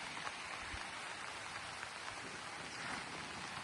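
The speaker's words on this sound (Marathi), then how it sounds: "आज या ठिकाणी जर बघितलं तर भरपूर पाऊस चालू आहे" Heavy rain pouring on a mango orchard, a dense, steady hiss of drops on leaves and surfaces, continuous and fairly faint with no voices.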